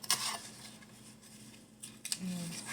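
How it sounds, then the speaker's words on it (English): A knife chops homegrown beets on a cutting board, giving a few faint, sharp knocks at the start and again near the end, with quiet pauses between them. "And keep chopping this up."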